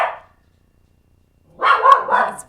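A dog barks at neighbouring dogs: a short trailing sound fades at the start, then after a silent pause a close, loud burst of two or three quick barks arrives.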